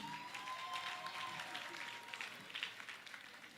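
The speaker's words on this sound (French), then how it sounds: "Est-ce qu'on peut applaudir pour lui?" An audience claps for a singer after a performance, a faint, distant patter of applause that thins out over a few seconds, with a soft tonal hum early on.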